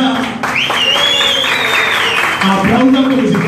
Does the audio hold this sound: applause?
yes